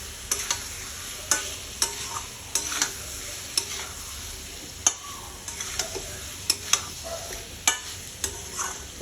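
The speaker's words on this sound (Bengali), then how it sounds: "এখানে যে ডিমগুলো আমি ভেজে রেখেছিলাম এখানে একসাথে এরকম দিয়ে কষিয়ে নেব।" Fried eggs stir-frying in a spicy masala in a pan, with a steady sizzle and a spatula scraping and tapping at irregular intervals, close up and with no talking.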